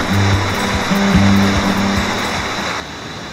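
The Chub River rushes beneath a bridge as a steady, loud wash of flowing water, with a low hum running underneath that may be passing traffic.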